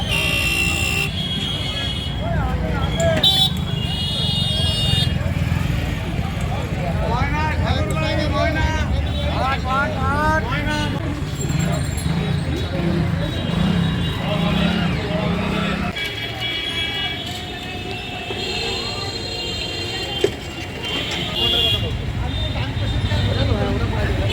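Busy Jessore Road traffic with cars, buses and repeated horn toots, loud and continuous and close by, with people talking over the street noise throughout.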